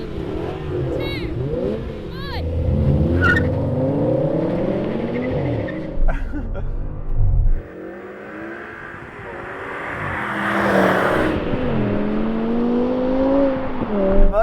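Two cars, a V10 BMW M5 and an AMG E55, launch side by side in a drag race, engines revving hard and rising in pitch as they accelerate away, with a brief lift mid-run and the roar continuing loudly throughout.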